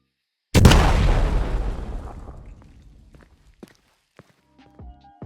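A sudden loud explosive boom from a Doom Boom firework blasting open a garage door in the video game Fireworks Mania, rumbling and fading over a couple of seconds, followed by a few faint scattered clicks and knocks.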